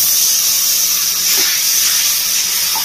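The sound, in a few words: water added to frying spice masala for chicken curry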